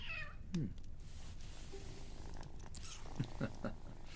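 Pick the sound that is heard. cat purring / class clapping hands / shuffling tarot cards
cat purring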